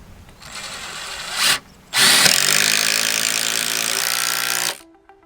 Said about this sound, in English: I don't want the screw to bind up on the timber as I'm screwing it into the fence post